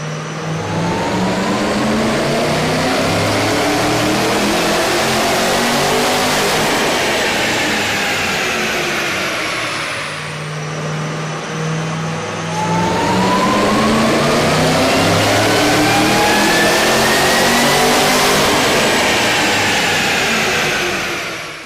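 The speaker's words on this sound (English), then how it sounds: "we ran the vehicle on the dyno to test the sound comparison versus the stock intake" A car engine with a K&N aftermarket air intake revs up steadily under load on a dyno, pitch climbing, dropping briefly, then climbing again in a long loud sustained pull with no talking.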